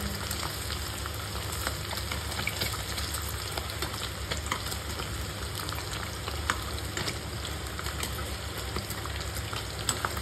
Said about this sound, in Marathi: बघा असं फ्राय करतो.